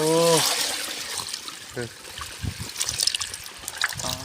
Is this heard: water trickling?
yes